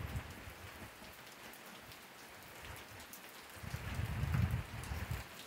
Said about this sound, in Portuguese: Olha o barulho aí da chuva.